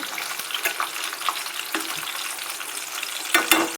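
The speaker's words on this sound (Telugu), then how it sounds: "ఇలా వాటర్ వచ్చేలా ముక్కలు గట్టిగా పిండుకొని నూనెలో ఇలా మొత్తం వేయించుకుందాం" Squeezed bottle gourd pieces fry in oil for a South Indian curry, crackling and sizzling steadily while being stirred, with several louder scraping stirs near the end.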